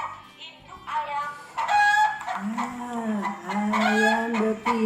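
A hen clucks in rapid, rising calls over a few seconds, close and loud, with a rooster-like crowing quality in the longer drawn-out notes.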